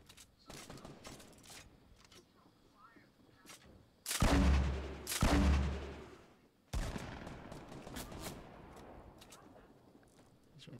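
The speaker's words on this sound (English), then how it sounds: "Someone shooting at you." Video game gunfire crackles in sharp bursts, with two loud sustained volleys in the middle and scattered single shots before and after, all heard at moderate distance without speech.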